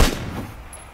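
A single sharp gunshot in the battle royale game PUBG cracks loudly at the start, then its echo tails off over a quiet background.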